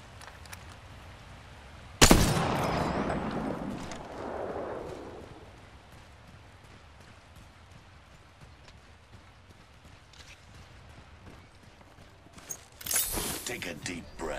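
Gunfire in Apex Legends: a sudden sharp burst of shots followed by a rolling blast that fades, then quieter ambience and another loud flurry of gunfire near the end.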